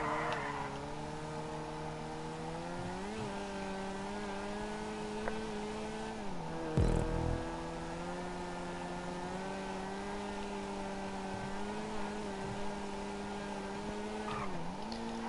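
Weeny Issi Classic, a small smart-car-like car in Grand Theft Auto 5, hums with a steady engine drone that dips and rises in pitch, with a brief thump midway; no talking.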